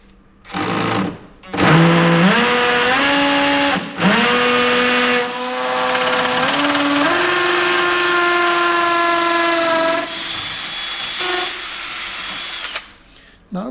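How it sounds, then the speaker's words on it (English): A drill bores into Wonder Board with a 3/16 bit in a loud, whining run of about ten seconds, its pitch rising in steps as the bit bites and speeds up. It breaks off briefly near the start and cuts out toward the end. "they get drilled with a 3/16 bit"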